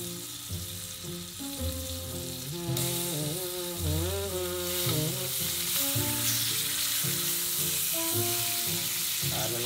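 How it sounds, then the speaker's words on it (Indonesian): Meat fries in butter in a pan for a spaghetti carbonara. A steady, close sizzle runs throughout over tonal background music. "Masak, kita akan mula-mula kita akan goreng dulu. Goreng daging tu dulu."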